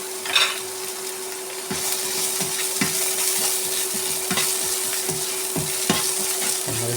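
Onion, ginger, green chilli, curry leaves, garlic and mustard seeds sauté in hot oil with a steady, close sizzle, broken by a regular series of spatula scrapes and knocks against the pan.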